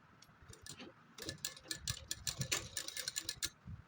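Rapid ticking clicks of a sewing machine running in short bursts, stitching a lace border onto a homemade suit, close and moderately loud with no talk.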